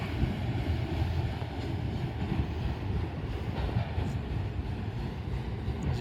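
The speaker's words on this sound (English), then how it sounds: "this one locomotive empty auto rack train heads west here out of Oak Harbor under slow orders" An empty Union Pacific auto rack freight train with one locomotive rolls steadily past at slow speed near Oak Harbor, with a continuous low rumble and faint clatter of wheels, heard alone.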